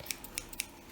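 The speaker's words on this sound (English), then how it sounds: "you can cut it out with my scissors like this one" Scissors snip paper while a paper airplane is being cut out, giving four quick, crisp cuts in close succession, near and fairly quiet.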